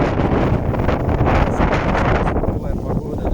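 Strong wind gusts roar loudly through a blizzard snowstorm outdoors, buffeting the microphone with a heavy, continuous rushing blast that eases slightly toward the end.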